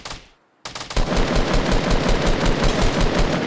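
Fortnite assault rifle fire in a rapid, sustained automatic burst that starts after a brief near-silent gap and stays loud and dense to the end.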